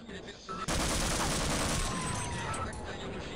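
A Half-Life turret opening fire, a sudden loud, dense burst of rapid shots that holds steady for a few seconds before tapering off, with faint game ambience around it.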